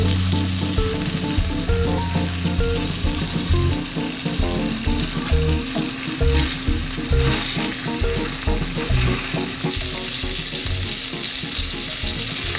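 Food fries in an oiled pan over a burner, giving a loud, continuous close sizzle and crackle with occasional stirring scrapes throughout.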